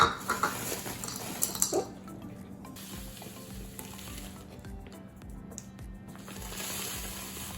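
Brown sugar is scooped and packed into a one-cup measuring cup: close scraping and clinking, busiest and loudest at first, then a quieter steady rustle.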